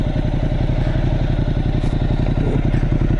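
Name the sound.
Ducati 1200 Multistrada motorcycle exhaust popping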